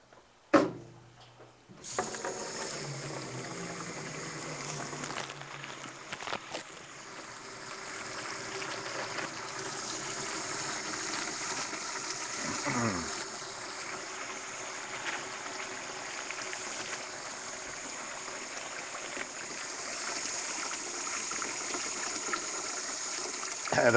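Water runs steadily from a tap while a machine is cleaned and sanitized with a packet of sanitizer, a continuous hiss and trickle lasting throughout after a brief clatter at the start.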